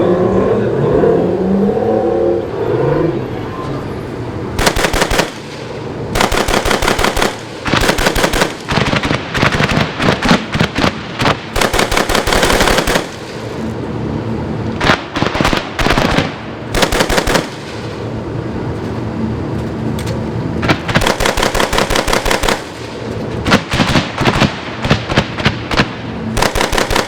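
A 40 mm automatic grenade launcher fires at targets during a live-fire exercise, heard as loud rapid bursts of repeated thudding reports with short gaps between volleys, alone and without speech.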